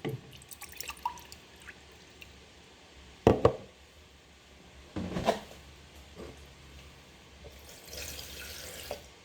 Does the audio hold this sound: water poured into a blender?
yes